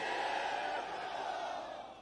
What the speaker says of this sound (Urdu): نعرے بھٹو